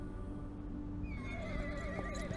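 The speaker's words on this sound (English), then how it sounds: "The horse answered with a loud neigh." A horse in the video game Reverse: 1999 lets out a clear, rising whinny that wavers and trails off over a couple of seconds, heard alone against a soft background.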